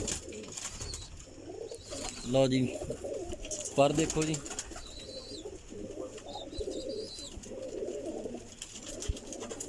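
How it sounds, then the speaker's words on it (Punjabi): Soft, repeated pigeon cooing close by, with someone speaking briefly in the middle over the birds. "ਬੜੇ ਅੱਛੇ ਕਬੂਤਰ ਨੇ ਇਹ ਵੀ"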